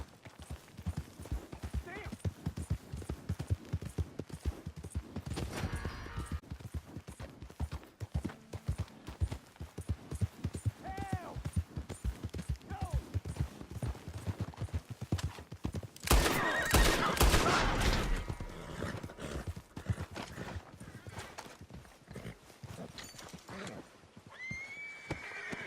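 A horse gallops in Red Dead Redemption 2, with rapid rhythmic hoofbeats, several whinnies, and a burst of gunfire partway through, while a voice talks in places.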